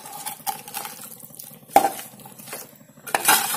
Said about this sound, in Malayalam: ഒന്ന് രണ്ട് മിനിറ്റ് വരെ ഇങ്ങനെ ഒന്ന് മിക്സ് ചെയ്ത് കൊടുത്താൽ മതി ഈ ചിക്കനിലേക്ക് മസാലയൊക്കെ ഒന്ന് പിടിക്കാൻ